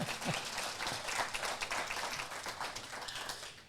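Steady, soft applause from an audience at a talk, a continuous patter of many hands clapping throughout with no voices over it.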